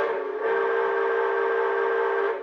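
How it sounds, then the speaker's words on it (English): A model Hudson steam locomotive whistle sounds in one long, steady, loud blast with several layered chime tones, holding for over two seconds with no talking. "Here is the whistle."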